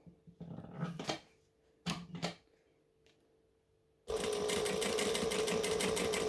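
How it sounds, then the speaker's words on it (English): A sewing machine stitches a seam 1/8 inch from the edge of the join at a long stitch length, with short slow bursts of whirring first, then a loud continuous run of rapid stitching close up. "I'm stitching 1/8 of an inch from the edge of the join"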